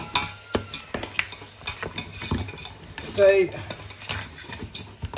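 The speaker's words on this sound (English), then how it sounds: "While it's cooking, I'm just going to stir it once in a while, just so that it doesn't stick" A spoon stirs a lamb chop and spinach curry cooking in a pot, making repeated close scrapes and clinks over a soft bubbling sizzle. A voice briefly speaks partway through.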